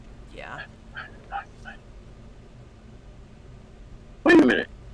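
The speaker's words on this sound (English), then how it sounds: "I heard a dog" In a Skyrim game, a dog gives a single loud close bark near the end, after some soft whimper-like yips under quiet background sound.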